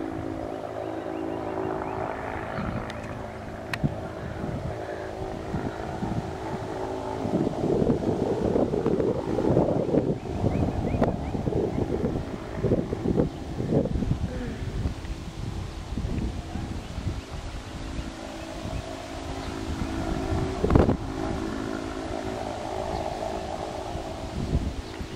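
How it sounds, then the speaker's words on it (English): Strong outdoor wind buffeting a handheld camera microphone, with loud, continuous low rumbling gusts that swell and fade at close range, plus faint rustling. "Wind's blowing me to death over here."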